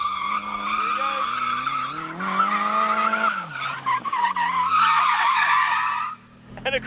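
A Nissan 180SX drifting sideways across the finish line in a drift battle, tyres squealing in a long, loud, wavering screech over engine revs, close up, fading out at the end.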